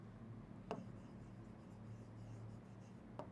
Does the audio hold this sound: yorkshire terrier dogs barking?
no